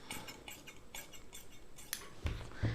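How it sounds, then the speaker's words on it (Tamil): Sharp scissors snipping through a folded blouse fabric piece while cutting a lined blouse, roughly eight quick crisp cuts in an uneven rhythm, close and fairly quiet. "இந்த பட்டி பீஸ் கட் பண்ணிக்கலாம்."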